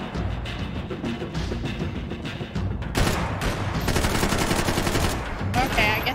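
Rapid bursts of automatic gunfire from the video game Max Payne 3 rattle on continuously and loudly, growing denser and harsher after the first few seconds.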